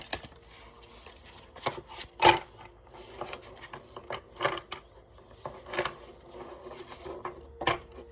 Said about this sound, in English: It's like shuffling the book.